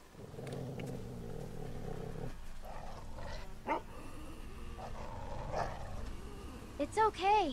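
A dog in The Walking Dead Season 2 video game whines, growls and yips in short bursts, mixed with game sounds and nearby character voices.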